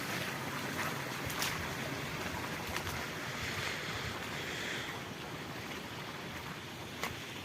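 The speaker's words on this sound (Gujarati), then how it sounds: "આ બધી ખેતરોનું પાણી જાય." Floodwater pours off farm fields after heavy rain, a continuous loud, dense roar of rushing water with a windy edge and no voices.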